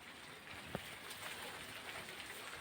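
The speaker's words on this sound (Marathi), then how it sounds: "रिमझिम पाऊस चालू आहे." Light drizzle falling outdoors, a faint, steady patter of rain on surfaces with a few distinct drops and no talking.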